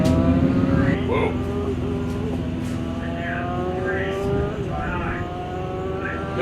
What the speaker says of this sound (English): Yager's bike definitely turning the tire very hard through the first couple of gears out there.